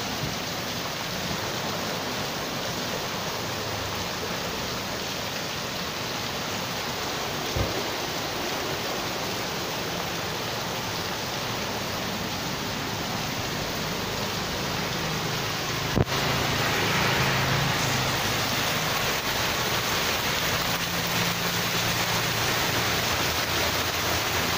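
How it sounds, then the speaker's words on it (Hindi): Heavy rain pours steadily in Lahore near a park ground, a dense, loud, unbroken hiss with a sharp knock midway and slightly heavier downpour toward the end. "बहुत तेज बारिश है"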